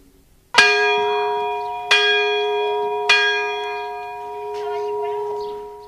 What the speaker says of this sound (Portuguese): Um dia, o sino da igreja tocou afinados.